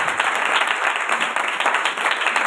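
Church congregation clapping during a sermon at a healing ministry service, a dense, steady wash of applause filling the whole clip at close range with no talk over it.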